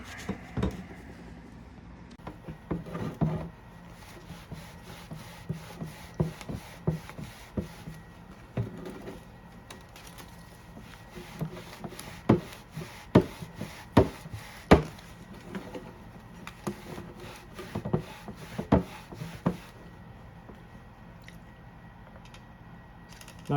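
Cloth rubbing and scrubbing on the rear wheel rim of a ZX6R motorcycle with the tire removed: irregular close-up scuffs, wipes and knocks repeating for over twenty seconds with no talk.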